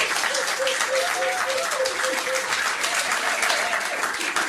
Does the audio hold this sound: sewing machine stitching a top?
no